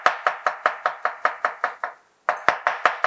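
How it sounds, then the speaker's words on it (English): A knife chops onions on a board in a fast, even rhythm of sharp knocks, about a dozen strokes, a short pause, then several more; close and clear with no voices. "so just shred the onions"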